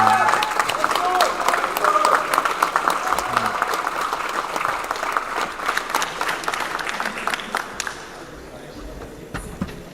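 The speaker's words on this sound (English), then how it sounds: "Let's give a round of applause for 2 really great fighters." Audience applause at the finals of a fighting tournament, a steady crowd clapping for two competitors that carries loudly for about eight seconds, then thins and fades, with voices mixed in.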